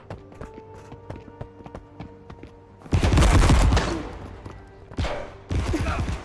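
Gunfire from a souped-up Mauser-style automatic weapon in a shooter video game: a rapid burst of loud, dense shots, then two shorter bursts, following a stretch of quieter clicking handling sounds.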